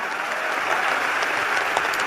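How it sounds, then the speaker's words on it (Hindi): An audience at a religious Ram katha gathering claps together, a sustained, even burst of many hands that fills the space at moderate loudness. "एक बार ताली बजाओ"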